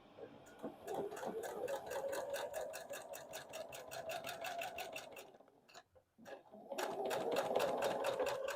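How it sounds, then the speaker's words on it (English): Domestic sewing machine stitching a quilt block seam, a fast even rapid-fire needle chatter running steadily, pausing briefly, then resuming at full speed, close and moderately loud with no talk. "you're going to sew 1/4 inch here"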